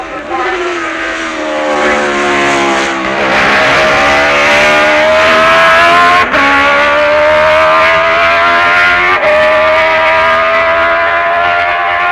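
A Honda racing motorcycle at the 1966 Isle of Man Senior TT screams past at speed, its loud, high engine note rising and falling as it nears and pulls away, with gear changes and strong rasping harmonics.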